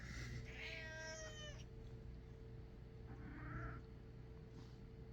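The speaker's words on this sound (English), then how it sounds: "Now this one's meowing at me." A house cat meows several times indoors, a rising, drawn-out cry near the start, then a shorter, softer meow a couple of seconds later, over a steady low hum.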